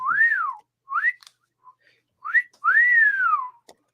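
A person whistles a tune in several rising and falling phrases, clear and close, with short pauses between them and no talking.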